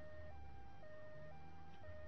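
An ambulance siren in the video game GTA III wails in a two-tone alternating pattern, steady and faint over a low engine rumble.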